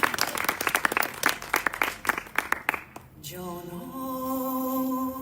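Audience applause at a public rap show with a DJ, a few seconds of close, dense clapping that cuts off midway and gives way to sustained music tones.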